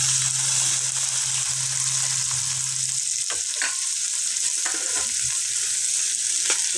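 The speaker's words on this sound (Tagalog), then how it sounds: "Yan, susunod na naman natin yung ating karne." Meat sautés in hot oil in a pan for Filipino bulanglang, producing a loud, steady, close sizzle that fills the whole stretch, with a low hum at first and occasional stirring clatter later.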